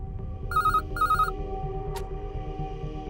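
A telephone rings twice in short trilling bursts, a clear electronic double ring over a low background hum, followed by a brief sharp click and quiet room tone.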